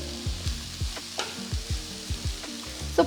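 Small chopped beetroot pieces frying in a pan for a Tamil beetroot egg poriyal, stirred with a spatula: close, steady sizzling under a regular rhythm of scraping strokes, about one every quarter second, with no talking.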